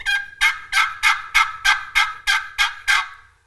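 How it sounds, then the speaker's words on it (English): A box call worked hard to make loud turkey yelps, about ten evenly spaced raspy notes in a steady rhythm, close and clear with nothing else over them. "this box call has brought in a pile of birds"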